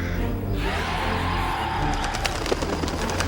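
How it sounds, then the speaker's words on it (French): Pigeons or doves coo amid a steady, loud background wash, followed by a flurry of wing flaps as the birds take off. "Tous les oiseaux s'envolent?"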